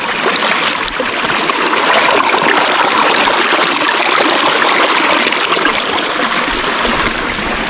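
Cold mountain stream water rushes at Busay waterfall in Guinyangan, a loud, continuous broadband hiss and gurgle of flowing water with no pause.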